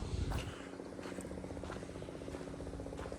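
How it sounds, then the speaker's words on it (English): A helicopter flies overhead during a nature walk in Southern California, giving a low, steady rotor thrum with faint rhythmic chopping throughout, moderately quiet and heard alone. "you might be able to hear it, but helicopter and airplanes, that's like the only thing that's man-made that you really hear out here"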